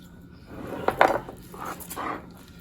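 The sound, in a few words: knife cutting pork ribs into St. Louis style, hitting bone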